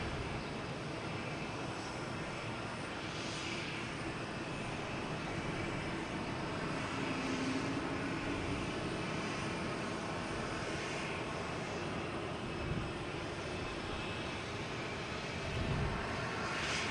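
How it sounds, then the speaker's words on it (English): Jet engines of an American Airlines A321 lining up on a runway at Boston Logan, a steady, moderately distant roar with a faint whine, continuous throughout. "We have a American Airlines and A321 lining up on 4 right, heading to LAX."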